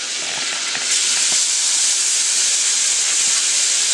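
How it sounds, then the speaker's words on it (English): Caribbean shrimp hit a hot pan of melted butter and set off a loud, steady sizzle that rises sharply after the first second and keeps a broad hiss going to the end, with no talking. "we're going to go ahead and get our shrimp started. Our Caribbean shrimp."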